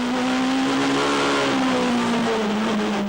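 A Peugeot 106 rally car's engine at the 2008 Danish Rally on narrow, twisty roads at Ringkøbing, revving hard with a loud, steady, high-pitched whine that rises and falls slightly, close and continuous.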